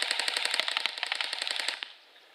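A CYMA AK47 airsoft rifle firing on full auto, a rapid even burst of sharp mechanical cracks lasting about two seconds before stopping, close and loud with no talk.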